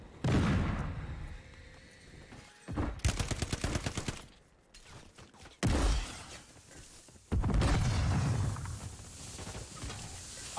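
Bomb drop in Call of Duty Warzone: loud bursts of rapid explosive gunfire-like blasts come in several separated volleys, with heavy low rumble and crackling between gaps, no voices.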